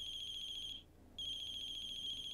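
A phone in the horror game The Closing Shift rings with a shrill electronic trill, two bursts separated by a brief pause, loud and close with no talking.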